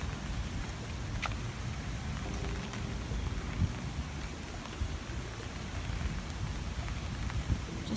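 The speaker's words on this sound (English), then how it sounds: "Just a light rain, a lot of wind." Light rain pattering on surfaces under strong, gusty hurricane wind with winds about 20 miles an hour, a steady close wash of drops with occasional sharper taps and rumbles, no voices.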